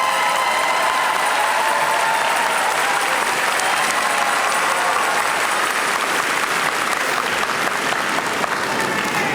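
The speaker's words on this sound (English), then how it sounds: "let's give these folks a round of applause" Sustained applause from an audience at a school district convocation, honoring five National Board certified teachers; dense, steady clapping fills the room for the whole stretch without a break.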